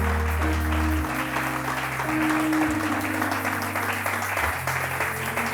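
A church congregation applauding and cheering for Jesus at a French-language healing service, loud sustained clapping and shouting filling the hall, with an organ or keyboard drone underneath.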